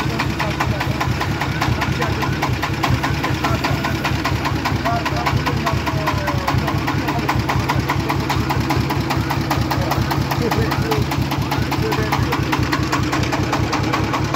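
Engine of a cargo vehicle fitted with a Thai-made tuned exhaust, running on a highway: a loud, fast, steady mechanical thumping that continues without pause for the whole stretch.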